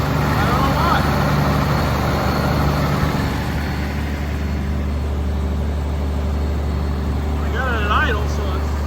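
An excavator engine idles loud and close with a deep, steady rumble, and brief voice sounds come through over it.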